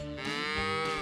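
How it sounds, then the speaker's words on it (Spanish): A cow moos once, a loud, sustained, rich harmonic call that rises slightly and holds for about a second, close and alone. "Esto es un mugido."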